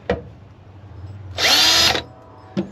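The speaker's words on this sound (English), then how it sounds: "finish drilling these holes out" A power drill whirs loudly for about half a second, boring holes through a metal bracket on a Toyota Tacoma truck, framed by sharp clicks and clunks of handling before and after.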